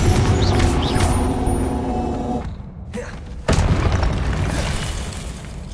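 Confringo spell explosion in Hogwarts Legacy: dense rumbling blasts and booms over a loud game soundscape, a brief drop to a quieter lull, then another abrupt heavy burst that rumbles on.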